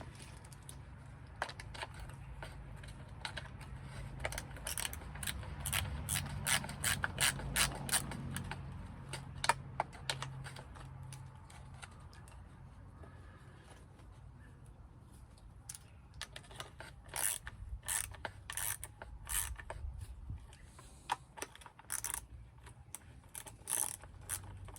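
Ratchet wrench working on a part of a cheap old boat, giving bursts of quick clicking that come and go, fairly close and fairly quiet, with no talk.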